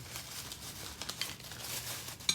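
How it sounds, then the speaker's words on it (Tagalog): Scissors snip fish skin into squares for chicharon, giving a run of close, crisp crinkling and cutting sounds with small sharp clicks, loudest near the end. "kailangan natin gunting-guntingin siya ng pa-square"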